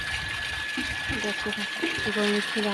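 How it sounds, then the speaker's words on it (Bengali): Water runs steadily at a household washing spot before clothes are washed, a continuous splashing hiss heard beneath a person talking. "এই দেখায় জল পড়ছে"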